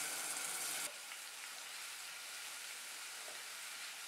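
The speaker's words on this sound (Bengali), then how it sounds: "মশলাটা কিছুক্ষণ ভাজা ভাজা করব।" Onion, garlic and green chilli paste fries in hot mustard oil, giving a steady, even sizzle with a brief louder burst at the start that settles into a continuous hiss for the rest.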